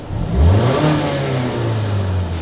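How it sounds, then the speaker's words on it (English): A 2019 Mazda 3 G25 hatchback with a sports exhaust in sport mode revs up close, the engine note rising and holding in a steady strong drone. "This one also has a sports exhaust system."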